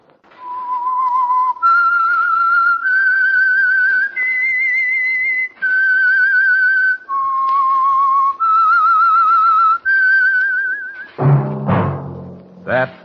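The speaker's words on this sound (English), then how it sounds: "That whistle is your signal, the Whistler." A single performer whistles the theme of The Whistler radio show: a clear, loud melody of sustained notes stepping up and down, ending with a brief orchestral chord.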